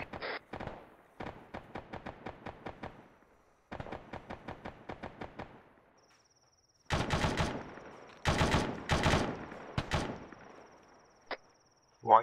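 Bursts of rapid automatic gunfire in a military video game at a UN checkpoint, several rattling volleys spaced apart, some sharper and louder, with a few single shots and brief pauses between.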